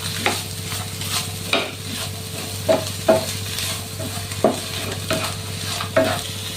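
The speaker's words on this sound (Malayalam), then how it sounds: "കുറച്ച് കറിവേപ്പില ചേർത്ത് കൊടുക്കാം എല്ലാം കൂടി നമുക്ക് മിക്സ് ചെയ്തെടുക്കാം" Bitter gourd stir fry being mixed with curry leaves in a pan, repeated spatula strokes and scrapes at an uneven rhythm over a continuous low sizzle, close and clear with no talking.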